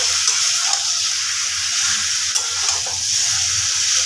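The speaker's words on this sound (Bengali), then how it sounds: "মাংসটা খুব ভালোভাবে আমার কষানো হয়ে গেছে" Chicken meat being sautéed and stirred in a pan gives a dense, loud, close sizzle with occasional stirring scrapes and small knocks, steady throughout, with no speech.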